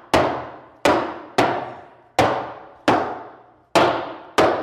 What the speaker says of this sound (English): So normally I take my whacker and I'll go down, this is going to be loud